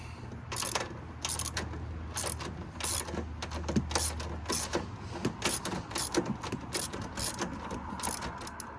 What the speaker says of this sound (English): So I should have space to turn my wrench.